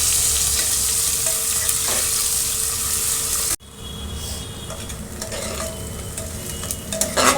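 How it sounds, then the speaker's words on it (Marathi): Onions frying in a pan toward golden brown for an aloo matar pulao, a constant close sizzle with spatula scrapes and stirring, briefly interrupted by a sharp cut before the frying resumes slightly quieter. "कांदा इथे छान आपण गोल्डन ब्राऊन भाजून घेणार आहे"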